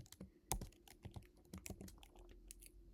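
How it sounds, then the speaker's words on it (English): Fast, uneven clicks of a computer keyboard fill three seconds, with one sharper keystroke near the half-second mark, close by and with no speech. "So we can also type here"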